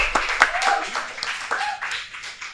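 A short, scattered burst of audience clapping for a cyclist being introduced, a handful of claps mixed with people talking nearby.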